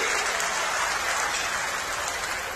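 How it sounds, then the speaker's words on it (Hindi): Loud, dense applause from a large crowd welcoming yoga guru Ramdev at a religious gathering in a pavilion, a steady roar of clapping throughout with no clear voices. "जोरदार तालियां हमारे योग गुरु रामदेव जी के लिए"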